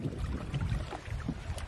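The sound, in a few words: boat motor running on a lagoon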